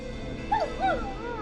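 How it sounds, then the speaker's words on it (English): At night, a neighbour's dog gives two short, rising yelps or yips, heard from a distance over a steady background hiss. "Is that a neighbor's dog?"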